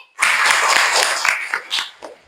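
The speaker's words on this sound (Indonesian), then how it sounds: "Berikan tepuk tangan untuk Siti." A short burst of group clapping starts abruptly, stays strong for about a second and a half, then trails off into a few scattered claps.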